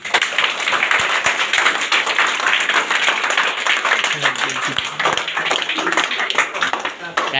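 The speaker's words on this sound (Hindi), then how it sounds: "ताली" Children clap together at a school Teachers' Day event, a continuous crowded patter of small hands with voices mixed underneath throughout.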